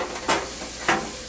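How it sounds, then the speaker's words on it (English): Eggs frying in a pan at breakfast time, a steady close sizzle throughout with two brief louder hissing surges, and no talk. "And they're kind of sizzling good, so I'm going to turn them down a little bit."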